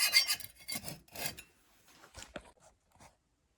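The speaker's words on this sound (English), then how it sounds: "I'm just gonna give it a little scrape." Caked grime being scraped off the chain sprocket of a Honda Shadow 750 motorcycle: several close, gritty rasping strokes, then a few lighter scratches and taps trailing off.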